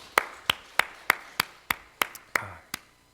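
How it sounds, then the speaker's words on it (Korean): A church congregation at a Sunday worship service claps in praise: nine sharp, evenly spaced claps ring out in a slow steady rhythm with a little room echo, with no talk over them. "자 우리 칭찬의 박수 하시려면"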